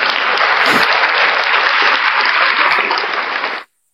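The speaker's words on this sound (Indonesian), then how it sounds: "Tepuk tangan Bapak Ibu." Loud, dense applause from a large crowd at a debate, steady throughout before cutting off abruptly near the end.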